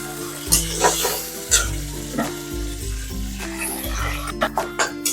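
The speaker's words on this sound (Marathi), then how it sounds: "आपण आता याच्यामध्ये टोमॅटो घालून घेऊयात छान असं एकजीव करून घेऊयात परतून घेऊयात" Tomatoes sauté in a pan for a methi dish, with a loud close sizzle and repeated rhythmic stirring scrapes and knocks of the spatula against the pan.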